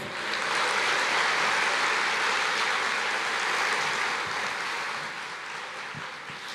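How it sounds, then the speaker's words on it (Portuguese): A church congregation applauding during a worship service, a dense, steady wash of many hands clapping at once that carries on without a break and eases off slightly toward the end. "Você pode aplaudir o Senhor"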